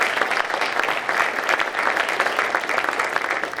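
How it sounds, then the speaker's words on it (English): A community gathering in Horry County applauds a top South Carolina fire chief, with steady, full clapping from a sizable crowd continuing throughout. "So let's give him a round of applause."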